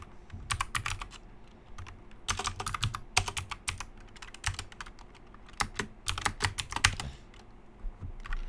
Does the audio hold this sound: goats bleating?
no